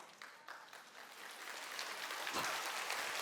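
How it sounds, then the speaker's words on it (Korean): Audience applause for a lecturer at a Korean faith lecture on sin, a broad wash of clapping that swells steadily over a few seconds. "박수 받을 일이 아닌데 박수 쳐주셔서 너무 감사를 드립니다."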